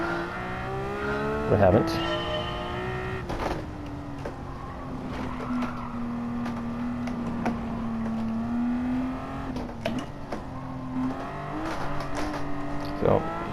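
Porsche 911 engine in Gran Turismo 7 holds a steady, droning note with clear harmonics, briefly rising in pitch near the start and end as the throttle is worked, heard close and continuous while someone talks over it.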